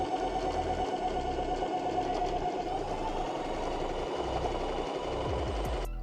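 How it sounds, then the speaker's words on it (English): Sewing machine running continuously up close as it stitches a waistband around a pair of homemade shorts, a steady rapid chatter that stops near the end. "Now what I'm gonna do is sew, obviously, the waistband all the way around."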